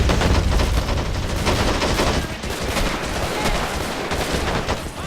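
Dense, continuous battle din from the video game Men of War: Assault Squad 2, with artillery fire and gunfire blending into a loud rumbling barrage of overlapping shots and booms, no voices.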